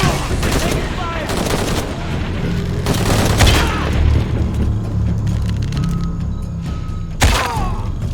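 Gunfire crashes through a shootout in Shadow of the Tomb Raider, with heavy booming shots and low rumble over a continuous loud din and a sharp blast near the end. Game voices are mixed in.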